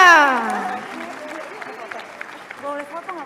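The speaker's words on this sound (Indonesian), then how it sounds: "Tepuk tangan semuanya" Audience at a talk answers with scattered clapping that builds under a speaking voice and then carries on beneath further talk, moderately loud and diffuse.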